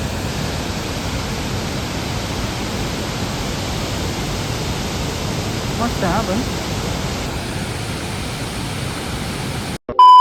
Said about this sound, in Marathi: पाणी बघा कसं वाहत आहे